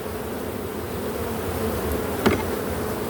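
Honeybees swarming around an opened hive that still holds brood and nectar reserves, giving a steady, dense buzz close by, with one brief louder pass near the end.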